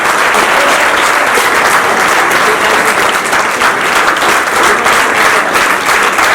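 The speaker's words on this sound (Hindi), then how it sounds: "दादरी और मेहराना गांव के लोगों के लिए एक बार जोरदार ताली, रुकनी नहीं चाहिए, बजाते रहिए, बहुत जोरदार ताली।" Loud, sustained applause from a crowd of students and village residents at a career guidance programme, dense and even throughout with no break in the clapping.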